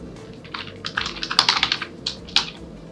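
Quick bursts of keystrokes on a computer keyboard while entering legend values in Adobe Illustrator, light clicky taps in short runs, close and clear with no voice.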